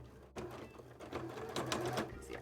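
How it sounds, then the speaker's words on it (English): Sewing machine stitching fabric pieces together for a cosplay costume, a steady close mechanical whir with rapid needle clatter running continuously through the whole stretch, with faint talk in the background. "All right, let's sew these bits down now."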